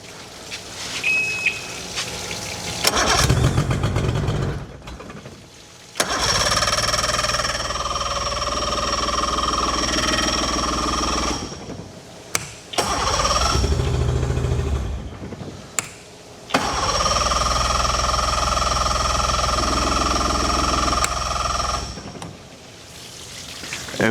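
A newly swapped boat engine cranks and runs in several stretches with water flushing through it, a steady loud mechanical drone broken by brief stops and restarts, with splashing and trickling between runs and no talking.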